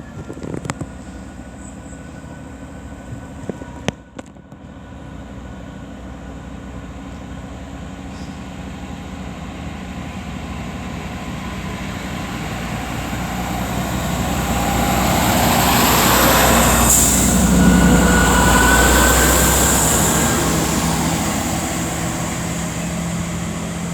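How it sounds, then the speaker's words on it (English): Chiltern Railway diesel unit 165009 departs Solihull station on a Leamington Spa to Birmingham Moor Street service, its engine rumble building gradually to a sustained, fairly near drone over ambient platform noise. "now getting ready to depart will be 165009 with the 1234 Chiltern Railway service from Leamington Spa to Birmingham Moor Street"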